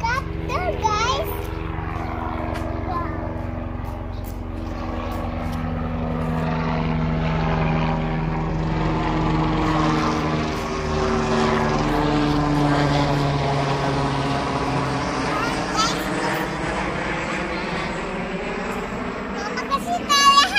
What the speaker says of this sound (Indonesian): Helikopter, guys.